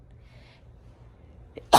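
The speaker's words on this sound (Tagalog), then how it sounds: "And talagang bahing ako ng bahing sa opisina" A single sharp sneeze right at the end of a quiet stretch, loud and close, coming just after a small catch of breath, in an office setting with spring allergies.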